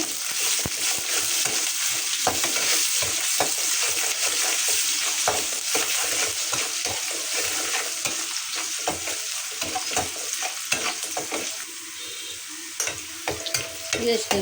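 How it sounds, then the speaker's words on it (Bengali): Ginger garlic paste frying in a pan with onion and salt for a hilsa dish, with a loud, close sizzle and quick, irregular scraping of a utensil being stirred through it. "ভালো করে ভেজে নিয়েছি আদা রসুন বাটা"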